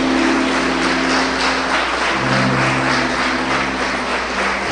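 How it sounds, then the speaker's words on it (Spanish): A church congregation applauds together, a dense, continuous wash of clapping that holds steady throughout, with a faint low hum underneath. "Un fuerte aplauso al Señor, por favor."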